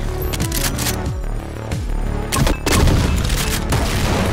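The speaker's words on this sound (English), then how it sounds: "blow up that sticky bombs and kill this revenant if it survives" Sticky bombs explode in the DOOM 2 Project Brutality mod as a string of loud, booming blasts and rumbling gunfire-like bursts, with heavy low rumble throughout and a strong boom near the middle.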